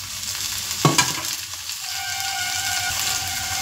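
Onions frying in a pan for a chicken and potato curry give a steady, close sizzling hiss, with a couple of sharp stirring scrapes near the start and no talking.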